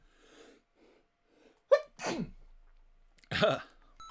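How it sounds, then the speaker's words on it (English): A single sharp human sneeze bursts out loudly after a few soft breaths, followed about a second and a half later by a second forceful sneeze, both close up and otherwise nearly alone. "Now I have to sneeze. Of course I have to sneeze."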